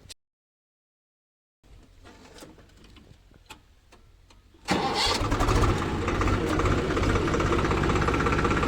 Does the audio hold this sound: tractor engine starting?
yes